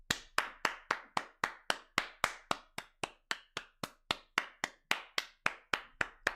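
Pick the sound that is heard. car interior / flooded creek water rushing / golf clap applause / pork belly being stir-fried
golf clap applause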